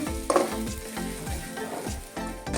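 Garlic frying in a pan, with a steady close sizzle and repeated scraping stirs as it cooks, no voices.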